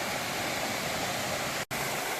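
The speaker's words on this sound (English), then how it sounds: "So there's one waterfall after another up and down here." Waterfalls tumbling one after another along a path in Wales give a steady, dense rushing roar, close and loud, with one split-second dropout near the end and no voices.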